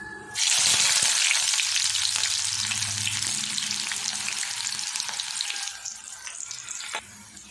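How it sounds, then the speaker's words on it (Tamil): Ten finely chopped small onions hit hot oil for a meal maker gravy, setting off a sudden loud hiss that settles into a steady, close sizzle, tapering slightly near the end, with no talking. "வெங்காயம் இந்தளவுக்கு நல்லா ஃப்ரை ஆனதுமே"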